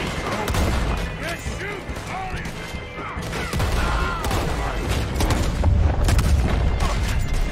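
Gunfire in the video game Red Dead Redemption II during a bank robbery: repeated sharp shots and booms with mechanical clanks, scattered irregularly through a busy game mix while someone talks over it.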